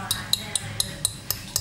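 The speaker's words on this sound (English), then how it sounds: "you need to whisk this until it's creamy" A whisk clinks against a bowl while soft butter is whisked for chocolate chip cookies: seven light, regular metallic ticks about a quarter second apart over a low background, with speech murmuring underneath.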